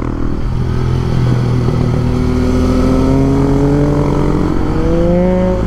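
A Husqvarna 701 supermoto motorcycle being ridden hard on a winding mountain road, its engine droning loud and close with pitch climbing and shifting through gears over steady wind roar.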